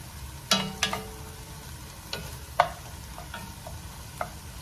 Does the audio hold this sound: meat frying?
yes